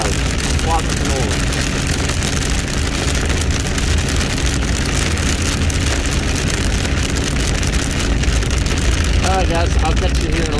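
Steady rain hisses loudly on a surface during canola swathing in a field, a dense continuous patter mixed with a low machine drone, with a voice briefly heard.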